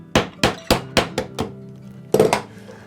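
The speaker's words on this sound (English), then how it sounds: "a couple quick taps, and I know my chisel is going down perfectly square" A chisel is struck with quick taps while paring the shoulder of a hand-cut dovetail, giving five crisp, evenly spaced close knocks, then a brief pause and a tight double knock, with no talking.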